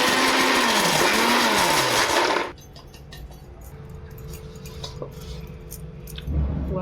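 A mixer grinder whirs loudly for a couple of seconds, coarsely grinding cashews, almonds and pistachios, then cuts off abruptly, leaving a quiet room with a few small clinks and a low hum.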